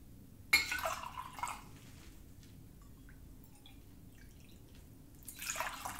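Warm water and vinegar poured into cups for Easter egg dye: a soft splash and trickle at the start, faint drips and quiet clinks in a hushed room, then another gentle pour at the end.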